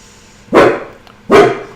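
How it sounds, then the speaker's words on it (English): A dog under a desk gives two loud, close barks spaced under a second apart, with quiet room tone between them. "he's underneath my desk barking at the ghosts"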